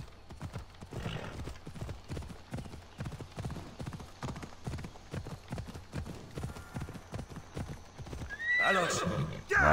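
Horse galloping in the video game Assassin's Creed Odyssey: rapid rhythmic hoofbeats throughout, with a whinny near the end, mixed with game sounds and a voice talking.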